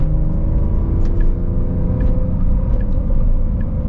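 Inside a 2025 Porsche 911, the flat-six engine drones with a deep, steady rumble, faint rhythmic ticks running under it, no voices.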